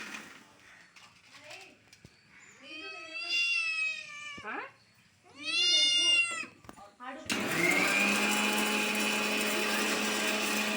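A cat lets out two long, loud, drawn-out meows close by in a kitchen, with softer murmurs before them, then a mixer grinder starts up and runs steadily.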